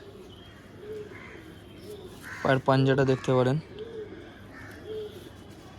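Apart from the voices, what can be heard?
Madras Malbai pigeons cooing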